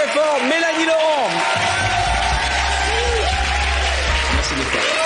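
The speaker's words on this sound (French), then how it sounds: "applaudissez très fort Mélanie Laurent" A studio audience on a French late-night talk show cheers and applauds loudly throughout, while voices shout and talk over the crowd.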